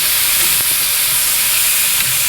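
Wagyu burgers sizzle and flare on a Grill Dome kamado, a loud, steady, close hiss of fat and flame that fills the whole moment without pause or talking.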